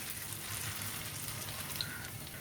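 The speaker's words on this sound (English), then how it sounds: "now I add the remaining balls one by one into the ghee for frying" Steady, soft sizzling of rasabali dough balls frying in hot ghee over a medium-low flame, a continuous hiss with faint crackles and no voices.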